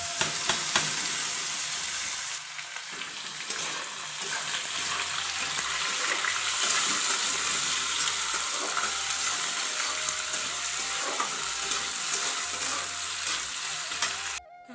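Potatoes sizzle and fry with browned onions in a hot pan, a steady dense crackle that runs close and continuous with occasional stirring scrapes and no voices.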